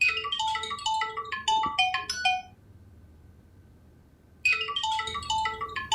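A mobile phone ringtone plays at a family meal, a bright, repeating electronic melody that breaks off for about two seconds of near silence and then starts again, clear and fairly close.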